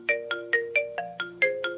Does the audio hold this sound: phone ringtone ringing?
yes